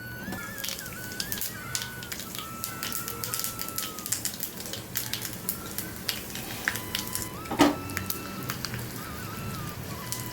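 Mustard seeds and fenugreek seeds splutter and pop in hot oil, a dense crackling sizzle with irregular sharp ticks throughout, steady and close.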